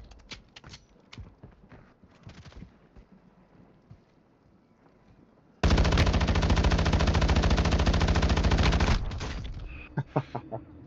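Sustained automatic gunfire in the mobile battle royale Warzone Mobile, a loud rapid burst lasting several seconds, framed before and after by quieter game sounds and scattered impacts.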